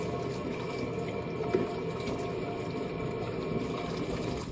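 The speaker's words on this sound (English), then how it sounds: "Give my hands a real good wash here." Water runs steadily from a tap during a thorough handwashing, a continuous broadband rush close by at even volume with slight splashing fluctuations.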